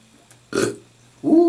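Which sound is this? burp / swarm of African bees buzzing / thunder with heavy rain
burp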